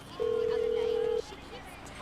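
A steady electronic ringing tone holds for about a second, clear and continuous, then stops, leaving faint background hiss.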